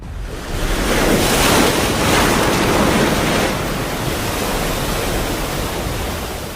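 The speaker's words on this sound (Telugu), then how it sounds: "సముద్రం ఎగసి పడుతోంది" Ocean waves surge and crash in a broad, roaring wash that swells early and then settles into a steady rumble, with wind noise.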